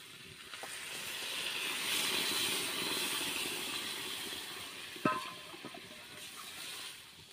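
Water poured into a pan of sautéed vegetables brings up a broad, rising hiss of steam and sizzle that swells and then eases, with a sharp clunk near the end.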